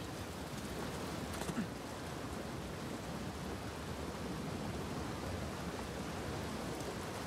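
Steady, even rain from the video game Uncharted 4: A Thief's End, set in New Devon, hisses as a dense wash with no break or voice over it.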